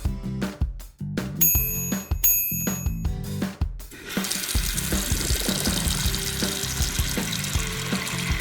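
In a kids' cartoon, a series of short bell-like taps and clicks opens onto water gushing steadily from a faucet. The stream runs loud and continuous for the rest of the clip, with no talk.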